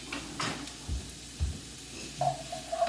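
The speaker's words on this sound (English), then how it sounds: "Give this a nice saute." Vegetables sauté in a pan over medium-high heat for a quick ramen meal, with a low sizzle broken by a few spoon scrapes and knocks against the pan.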